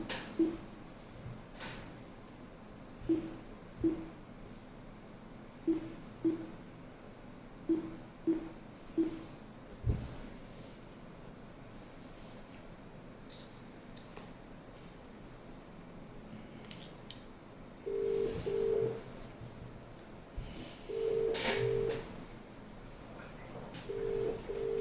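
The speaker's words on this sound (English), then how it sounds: "Now let's say I will dial a call now." A phone call is dialed through a Crestron Mercury CCS-UC-1AV conferencing unit. A row of short, faint key tones comes first, followed by louder paired dialing beeps against a quiet room background.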